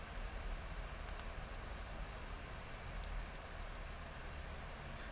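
A few faint, quick computer mouse clicks on desktop menu options, two close together early and one more later, set against a steady hiss of background noise.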